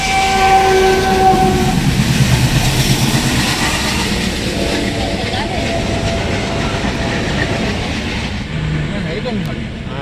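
A train rolls past a level crossing close by, horn blaring early on, wheels clattering as the heavy rumble gradually fades; faint voices underneath.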